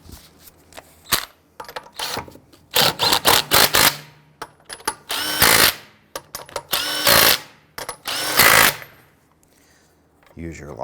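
An impact or power tool tightens the lug nuts on a 2008-2013 Infiniti G37, firing repeated loud, rattling bursts of a second or two each, separated by short pauses.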